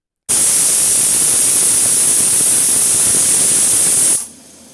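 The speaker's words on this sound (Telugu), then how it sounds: "తర్వాత మూత పెట్టి స్టవ్ వెలిగించి పొయ్యి మీద పెట్టి ఒక 4 విజిల్స్ రానివ్వాలి." A pressure cooker on a stove lets out one loud, continuous steam whistle, a harsh hiss with a high shrill tone that holds for about four seconds, then cuts off abruptly.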